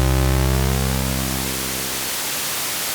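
A loud synthesized noise tone from a Morphor Echon6 synthesizer, with a buzzing harmonic drone underneath, gradually fading to a steady hiss over a few seconds.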